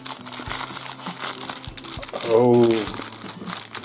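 Pop-Tarts packaging, strawberry and brown sugar cinnamon, crinkles loudly and continuously as it is unwrapped up close, with a brief exclaimed voice partway through.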